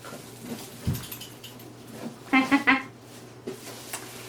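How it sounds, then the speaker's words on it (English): Knocking on a door: a quick cluster of three firm knocks, fairly loud and close, in an otherwise quiet room with faint background handling noise. "That's Bella knocking at the door"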